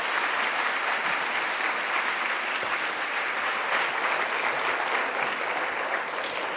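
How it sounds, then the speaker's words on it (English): A conference audience applauds Energy Secretary Ernest Moniz at a clean energy event, a broad, even roar of many hands that stays sustained and steady for over six seconds, heard from within the hall. "Let's give a big round of applause for Secretary Ernest Moniz"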